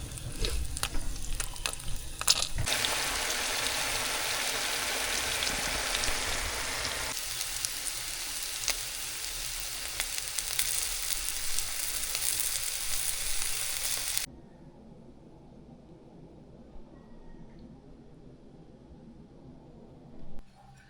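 Oyster mushroom tapa fries in a pan with a loud, steady sizzle and crackle that drops off abruptly about two-thirds through, leaving a quiet low hiss.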